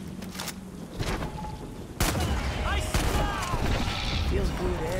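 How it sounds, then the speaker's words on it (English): Rifle shots in the Far Cry 6 video game, a couple of sharp booming reports among busy game noise and scattered effects, with a voice talking over parts of it. "I got like a fucking hunting rifle here."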